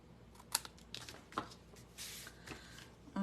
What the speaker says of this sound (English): just cut yourself a bigger piece of cardstock to go across and trim that off